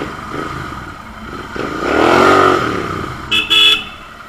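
A Royal Enfield Continental GT 650 motorcycle with a loud exhaust revs up in a residential lane, its engine swelling to a strong roar and then easing off, followed by short horn-like toots.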